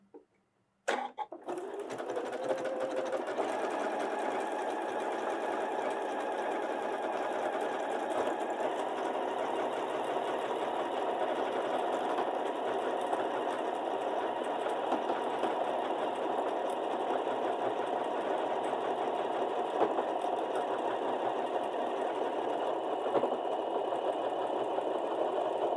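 A Janome computerized sewing machine runs steadily, stitching out a decorative stitch with a continuous even mechanical whir after a brief start, close and moderately quiet, with no speech.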